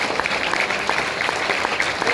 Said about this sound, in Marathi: मनापासून जोरदार टाळ्या, मनापासून जोरदार